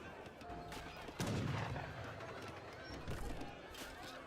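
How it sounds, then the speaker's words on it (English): A heavy mortar boom erupts partway through amid ongoing gunfire and battle noise in Age of Empires 3, with a second thump shortly after. "Oh, I think I heard a big cannon."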